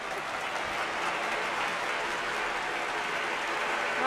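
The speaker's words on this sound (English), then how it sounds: "Hit the applause." Applause sound effect plays as a steady wash of clapping, even and continuous throughout, moderately quiet.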